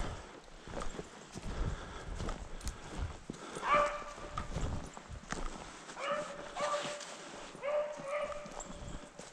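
Hunting dogs bark in short bursts along a woodland track during a rabbit hunt, some distance away and fairly faint, with footsteps and rustling nearby.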